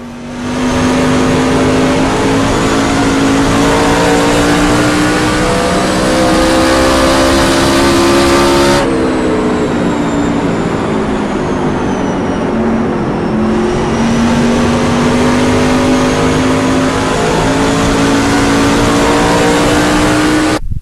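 A race car engine in a racing video game holds a loud, steady drone through the corners, its pitch sliding down and back up with the throttle and one brief cut in the middle, and nobody speaks.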